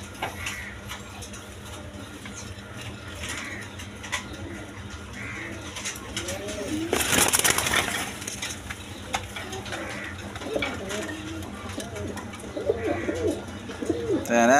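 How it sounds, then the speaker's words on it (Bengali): A pair of Rajgolla pigeons coos in soft, repeated low calls over a steady background hum, with a brief burst of broadband noise midway and occasional faint ticking. "দর্শকবৃন্দ, এখানে এক পেয়ার রাজগোল্লা কবুতর আছে"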